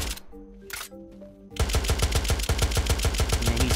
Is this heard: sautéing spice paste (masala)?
no